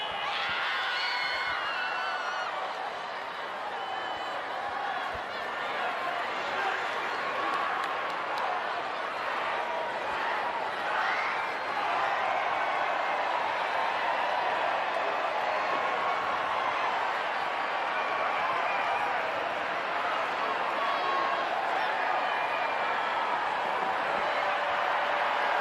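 Big stadium crowd roaring and cheering at a women's rugby World Cup semi-final between New Zealand and France, a steady dense wall of noise held throughout without letting up.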